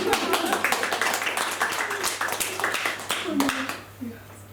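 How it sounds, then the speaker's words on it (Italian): Audience applause at a talk with a children's book author, brisk clapping from a modest crowd mixed with talk, tapering off near the end. "Un applauso."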